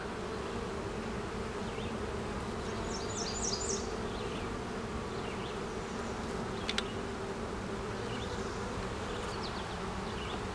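Honeybee queen piping inside a hive while a rival virgin queen may still emerge, a short run of repeated high tooted pulses rising over the steady close hum of the colony's buzzing workers.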